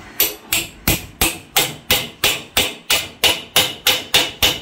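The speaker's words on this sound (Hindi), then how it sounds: "इधर करके ठोक देंगे इसको ताकि हमारी लाइन भी सीधी हो जाए" Steady, regular hammer blows tapping a part into place while fitting a hook set on a sewing machine, about a dozen sharp, evenly spaced strikes, loud and close, with no talking.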